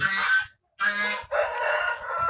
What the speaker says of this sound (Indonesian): ayam sudah saya keluarkan